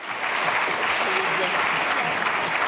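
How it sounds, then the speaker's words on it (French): A round-table audience applauds its speakers with steady, dense clapping that fills the hall without pause. "Merci à nos intervenants, nos intervenantes. Vous pouvez les applaudir"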